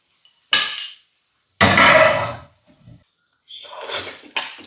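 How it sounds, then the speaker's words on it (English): A spatula or knife cuts cooked food into pieces on a plate or pan, giving a few sharp scraping and clattering strikes at irregular intervals, close and fairly loud, separated by silence. "Cut it into pieces with a spatula or knife, plate it, and it's ready to eat."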